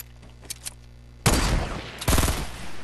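Gunfire in a video game match, heard after a quiet start with faint background taps: a loud, dense burst of rapid shots that stops briefly, then a second heavy volley, all near and dominant with no talk.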